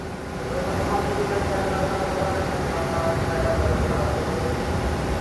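A commuter line train on the Bogor–Juanda route pulls away, its steady low rumble and rail noise swelling over several seconds, with faint voices of people nearby.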